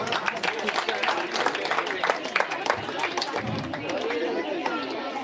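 Clapping from a junior college audience at a students' get-together as a student is called to the dais; a brisk, steady patter of hands with some background chatter, moderately loud.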